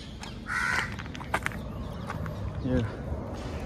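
A crow caws a few times nearby amid outdoor ambience, with a person talking and some light footstep-like thumps in the background.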